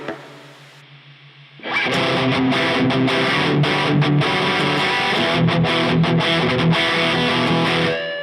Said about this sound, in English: that's the sound of a capture without a cabinet in there, which is not what you want